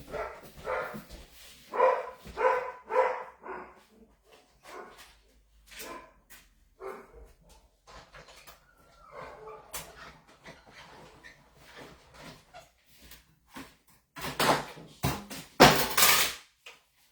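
A dog barks repeatedly in loud, close bursts, with quieter yips and scattered clinks and thumps between, ending in a flurry of sharp barking.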